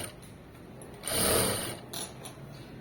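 A sewing machine stitching fabric, a soft mechanical whir that swells for about a second, followed by a shorter burst of running; quiet and close, with no talk.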